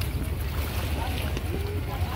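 A crowded passenger boat bound for Boracay runs with a steady low engine rumble, wind buffeting and water noise, and faint voices underneath.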